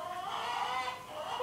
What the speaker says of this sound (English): Oh, there's Quackers. Yep, you're a mallard male